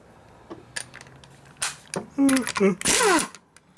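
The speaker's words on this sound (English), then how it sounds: "There's a big zip gun." Big impact wrench zipping loose a small tight nut on the chassis of a 1949 Harley-Davidson EL Panhead motorcycle, two loud close bursts of hammering rattle after some clicks and handling noise in a workshop.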